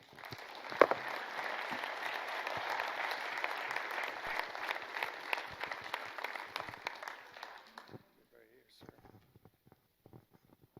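An audience at a leadership summit breaks into steady, full applause that holds for about eight seconds and then fades out. A few scattered claps and faint room sounds trail off afterward.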